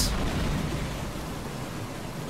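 A thunderstorm in the video game Battlefield Hardline, heard as a steady, loud wash of rain and low rumbling that fills the whole stretch without clear breaks and without any talking.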